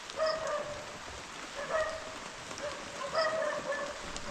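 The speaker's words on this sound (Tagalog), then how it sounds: "Yan ang ulan, aba." Rain falling at a farm with animals: a steady, even hiss of rain, with faint bird or fowl calls now and then in the distance.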